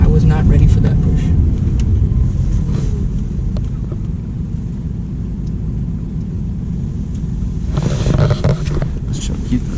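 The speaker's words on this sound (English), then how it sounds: "I was just getting used to the car, and I was not ready for that push." An Audi R8 V8 sports car gives a deep, steady engine roar as it accelerates hard, heard from inside the cabin along with a louder surge near the end and some speech mixed in.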